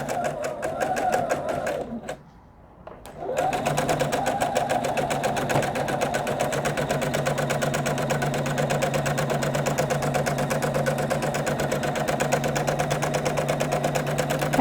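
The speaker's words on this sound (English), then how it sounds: "I came to the other side of the sewing machine so you can see a little better." A sewing machine joins quilt block units with a 1/4 inch foot, running in a steady rapid stitching rhythm close by, with a brief pause early on before sewing resumes continuously.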